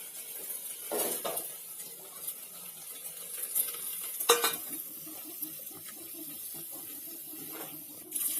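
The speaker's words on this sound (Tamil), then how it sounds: "எல்லாம் ஒன்றா போட்டு வதக்க போறேன்" Tomato, small onions and green chillies are sautéed in a pan. A soft, low sizzle sits under scattered clinks and scrapes of a spoon against the pot, and a few louder knocks come midway.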